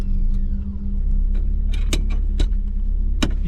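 A 1982 BMW E21 320is with 219,000 miles pulls away, its engine a steady low rumble heard from inside, with scattered clicks and light rattles in the cabin.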